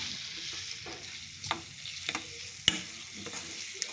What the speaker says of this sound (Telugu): కలుపుతూ 2 నిమిషాలు ఫ్రై చేయండి